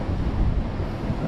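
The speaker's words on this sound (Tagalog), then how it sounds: "sobrang lakas ng alon" Strong sea waves along a shore in bad weather, a low rolling rumble of surf mixed with gusty wind buffeting the microphone, continuous and fairly loud.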